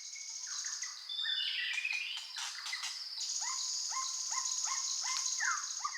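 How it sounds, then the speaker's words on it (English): Several birds sing and chirp in a Vietnamese national park, overlapping whistles and repeated short rising calls over a steady high insect-like hiss, all moderately faint and distant, with no voices. "It could be something such as these birds singing in a national park in Vietnam,"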